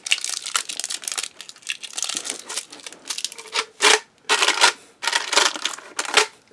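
Packaging crinkles and crunches as a cardboard box is opened, a run of sharp crackly bursts and short rustling pulses at close range with brief pauses between them.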